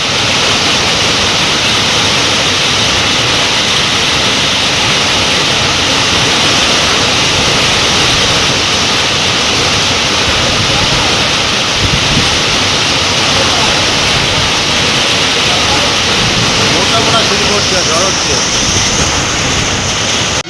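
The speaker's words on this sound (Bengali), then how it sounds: "কাঠগুলো কীভাবে ধুলছে দেখো, ভালোই ঝড় হচ্ছে" Heavy rainstorm with strong gusting wind and hail, the first hailstorm of 2025, roaring as a dense, unbroken wash of noise that stays loud and close throughout.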